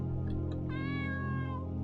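A cat meows in a desert-set video game, one drawn-out, clear meow following a couple of soft chirps, heard close over a steady low game ambience.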